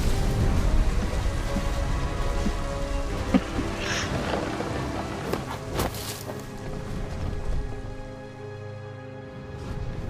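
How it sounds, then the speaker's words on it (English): Heavy rain pours steadily while thunder rumbles and cracks nearby in the video game What Remains of Edith Finch, the storm fading slightly toward the end. "The thunder sounded much too close and full of angry power"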